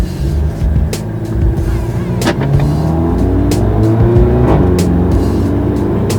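A car engine drives off, a steady low rumble that holds throughout with slight swells as it moves away, fairly loud and close.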